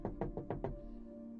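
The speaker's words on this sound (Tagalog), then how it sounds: "May kumakatok sa pinto." Five quick, muffled knocks on a door late at night, evenly spaced and fairly faint, followed by a low lingering hum and no voices.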